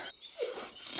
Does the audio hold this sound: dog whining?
yes